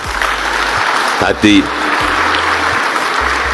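A crowd at a presidential speech opening a national strategic projects event gives sustained applause for Pak Hadi, steady clapping throughout with someone speaking briefly over it.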